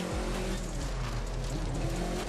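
A Ford Focus RS RX rally car in The Crew 2 video game roars continuously and loudly as it drives a rally road, the engine note rising and shifting with no voices over it.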